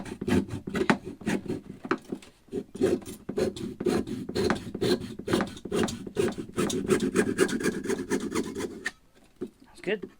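A hacksaw cuts grooves into a handle with quick, rhythmic rasping strokes, close and continuous for about nine seconds before stopping.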